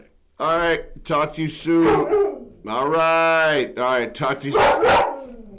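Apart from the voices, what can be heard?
dog barking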